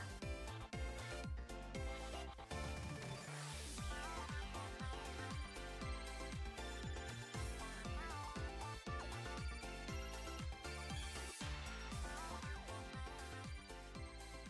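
A phone ringtone plays loudly and steadily for about fifteen seconds, a dense, musical, repeating tune with no talking over it.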